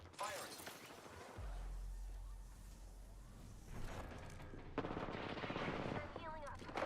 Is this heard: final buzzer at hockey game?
no